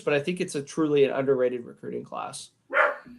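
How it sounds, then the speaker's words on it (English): A corgi barks a few times in the background, quick yips mixed under someone talking close to the microphone. "excuse my dog in the background"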